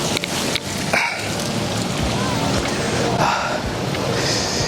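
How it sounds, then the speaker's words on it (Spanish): Rain begins falling outdoors, a steady broadband patter and hiss spread evenly across the whole stretch, fairly loud and close, with a few brief knocks and faint background sounds mixed in. "Qué bonito momento para que empezara a llover"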